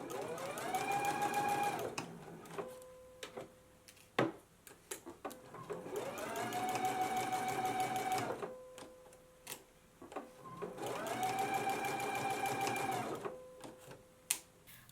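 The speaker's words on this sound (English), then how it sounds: "let's go ahead to the machine and we can stitch it in place at a 5/8 of an inch seam allowance" A sewing machine stitches a bodice to a pair of pants at a 5/8-inch seam in three rapid bursts, each rising to a steady whir and then stopping, with clicks and small handling noises in the pauses between.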